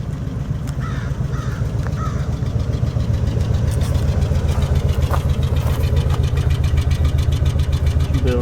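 A vintage RV engine idles steadily after a winter start-up with a low, even rumble, loud and close, while a crow caws a few times in the distance.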